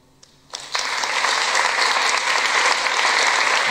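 An audience breaks into applause at the end of a TEDx talk, rising quickly after a faint start into steady, dense clapping that holds at full strength.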